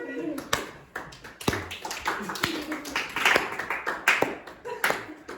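A language class claps together for a classmate, a dense run of hand claps and taps lasting several seconds, fairly close, with voices talking over it.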